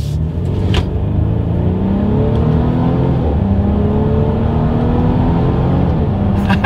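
A 2023 Mercedes-Benz GLC300 in sport driving mode accelerating hard: a loud, steady engine drone climbing in pitch through the gears, with brief shift breaks and rising again, close and continuous throughout.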